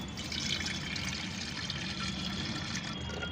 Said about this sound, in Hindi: 1 लीटर पानी इसमें हमें डाल देना है।